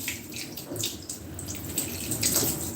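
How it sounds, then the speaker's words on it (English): Tap water running over hands at a sink, a close, steady splashing rush with small shifts as the hands move under the stream, and no voices. "I'm washing my hand, guys. You hear water in the background?"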